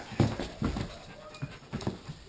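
Dog panting beside the camera, a terrier, Great Pyrenees, Labrador and husky mix, with a few loud breathy bursts followed by softer rhythmic puffs.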